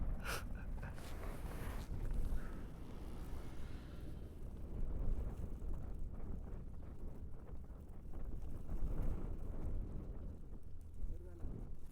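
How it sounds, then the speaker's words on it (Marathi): Strong wind buffets the microphone on a motorcycle ride near Leh in Ladakh, a continuous loud roaring rush with gusts rising and falling, and someone speaks briefly over it. "अरे हवा जास्त आहे रे बाबा."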